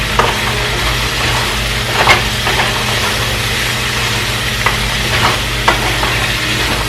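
Chopped garlic and chunks of ginger are stirred in a pot for vegan coconut carrot ginger soup, giving a soft, steady sizzle with a few scraping knocks of the spoon, close and alone.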